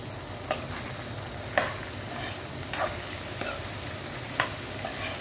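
Sliced potatoes added to a pan with lentil vadis, frying with a steady hiss and a few sharp clicks of the spoon against the pan, fairly quiet and without talk.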